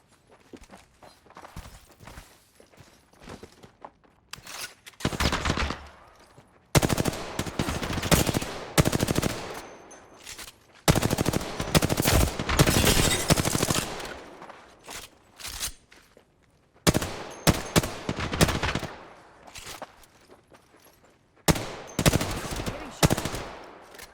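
Gunfire in a video game shooter, with repeated bursts of rapid automatic fire separated by short pauses and quieter stretches of footsteps, loud and close throughout.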